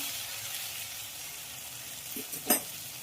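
Taro stolons fry in a pan with a steady close sizzle, joined near the end by a brief stir and clink of a utensil.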